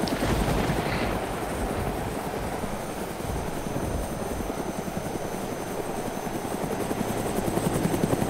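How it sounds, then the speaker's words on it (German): A helicopter in the video game DayZ drones continuously with a steady rotor thrum, fairly loud and unbroken, with no talking over it. "Ich höre einen Heli."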